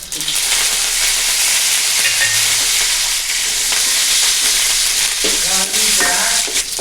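Dried red chillies and curry leaves fry in hot oil for an okra and lentil buttermilk curry, a loud, steady, close sizzle with stirring scrapes throughout and no talking.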